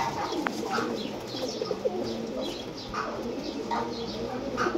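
Pigeons coo softly in a loft where ten young birds are kept, repeated low murmuring calls over a busy background with occasional chirps.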